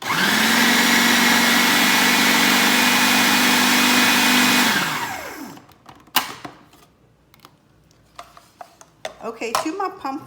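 A blender purees pumpkin for pie with a loud, steady whirring motor for about five seconds, then winds down; afterward come quieter clinks and knocks of kitchen handling and the lid being moved.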